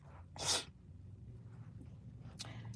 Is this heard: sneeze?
yes